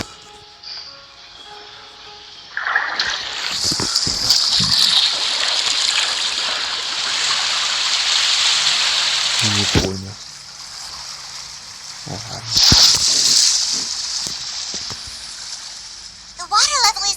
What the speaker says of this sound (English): The water level is rising.